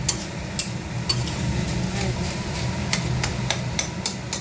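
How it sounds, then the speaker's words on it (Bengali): Oil sizzles steadily in a pan as food fries, with occasional sharp clinks of a utensil against the metal. "এই যে কলার ভাড়ালিটা কলার টিউবটা ভাজা হচ্ছে এভাবে।"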